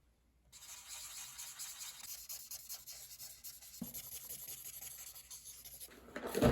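Colored pencil stroking across paper while coloring a drawing of a flower, a steady close scratchy rubbing that runs continuously, with a sharper scrape near the end.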